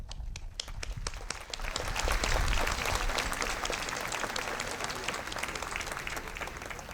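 A high school graduation audience breaks into applause, starting with scattered individual claps that swell into a full, dense round after a couple of seconds and then hold steady.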